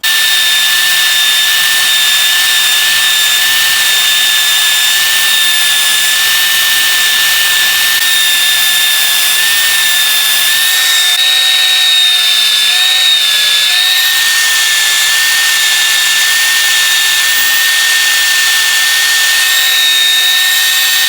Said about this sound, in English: So I'm going to use the belt sander, placed upside down.